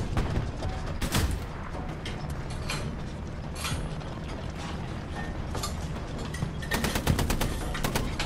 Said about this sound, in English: we had some shots coming from the right